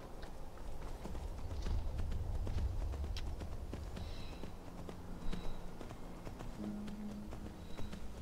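Horse hooves clip-clopping in the Skyrim video game, a steady walking rhythm of fairly faint, even hoofbeats over a low ambient game background, with no talk.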